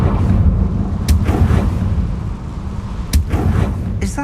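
The fiery Confringo blast spell in the Hogwarts Legacy video game goes off as two sharp cracking bursts over a heavy, continuous low rumble, loud and close.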